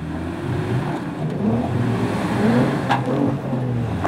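Off-road vehicles driving along rough, steep Lippincott Pass in Death Valley, California, heard as a nearby engine that revs and strains steadily for several seconds, with a brief knock near the end.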